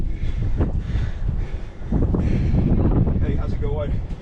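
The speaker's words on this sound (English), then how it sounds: "The wind's blowing." Strong wind gusts buffet the microphone on the Mt. Elden Lookout Trail above Flagstaff, Arizona, a steady roaring rush with rustling that swells and dips throughout, while a person speaks over it.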